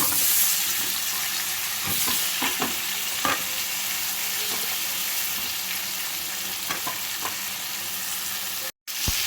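Onions, tomatoes and chillies fry in melted butter in a pan, producing a steady close sizzle. Repeated scraping stir strokes and occasional utensil taps cut through it, and there is a brief silent gap near the end.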